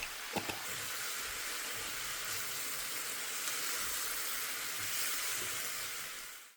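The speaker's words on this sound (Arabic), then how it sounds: "زي ما حضراتكم شايفين كده البصل بدأ يتكرمل" Onions caramelizing in a pan over lowered heat give a steady, close sizzling hiss that runs almost unbroken, with a few faint clicks near the start and no talking.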